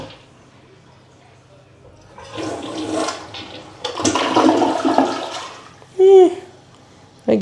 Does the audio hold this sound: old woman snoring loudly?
no